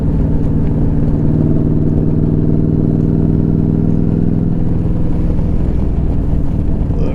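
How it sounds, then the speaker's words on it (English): Motorcycle engine with an aftermarket exhaust, heard steadily while riding: a continuous loud, low droning rumble that holds even throughout, with no talk over it. "I like the sound of my bike"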